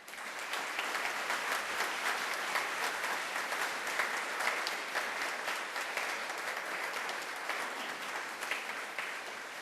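Sustained, dense applause from an audience thanking a panel of speakers after an evening event on stem cells and cerebral palsy, steady and fairly loud throughout with no voices over it.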